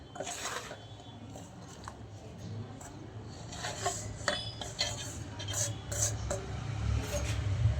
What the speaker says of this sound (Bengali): এবার আমি ছড়াগুলো আস্তে আস্তে করে দুধের মধ্যে দেব।